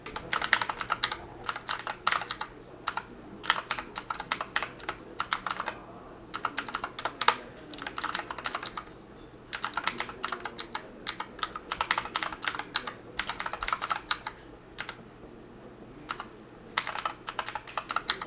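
Fingers typing on a computer keyboard to fill in a budget form, brisk bursts of close, crisp key clicks broken by short pauses, with no talking.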